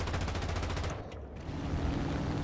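Defensive gunner on a Dornier Do-217 N-1 bomber in War Thunder firing in steady rapid bursts, a continuous rattling fusillade with a short pause midway, loud over droning aircraft engines.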